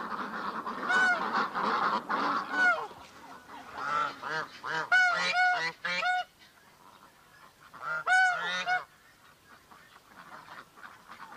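A flock of farmed geese on pasture honks in repeated bursts of loud, nasal calls, overlapping at times and then pausing, fairly close with quieter stretches between.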